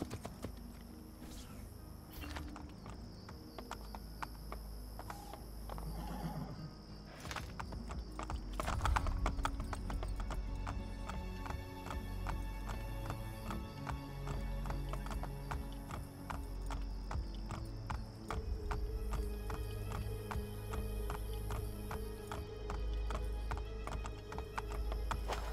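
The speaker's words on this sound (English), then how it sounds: "I can ride the horse in this one." Horse hooves clop steadily at a walking pace in Assassin's Creed Brotherhood, over layered game music and mechanical ambience, with a brief horse whinny partway through.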